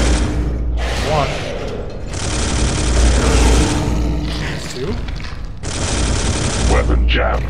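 Sustained bursts of automatic gunfire from the Space Hulk video game rattle loudly in long volleys with brief pauses, mixed with game sounds and a voice speaking over them.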